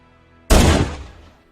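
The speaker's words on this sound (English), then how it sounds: "It has this weird metallic effect if I pitch it down that way." A single pitched-down assault rifle gunshot edited for a Halo 2 mod: one sharp, heavy blast with a deep boomy body and a metallic tail that fades over about a second.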